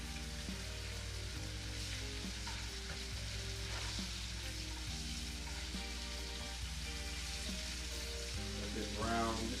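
Flounder fillets fry in a pan of olive oil and butter, a steady, close sizzle running the whole time with a constant crackling hiss, with no voices.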